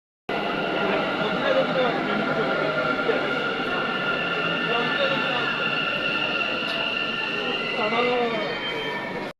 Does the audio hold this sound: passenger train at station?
yes